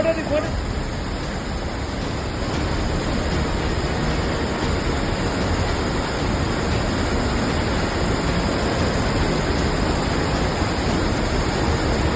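Hemavati river water rushing through the Sri Ranga lift irrigation scheme channel into lakes in Magadi taluk, a loud continuous roar, steady from start to end.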